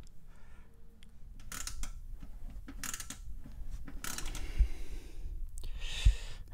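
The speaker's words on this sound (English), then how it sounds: "this ratchet wrench is working perfectly" Ratchet wrench turning on the last car battery bolt in a Pontiac Solstice or Saturn Sky engine bay, giving faint, close mechanical clicking and ticking across the whole stretch, with two sharper knocks near the end.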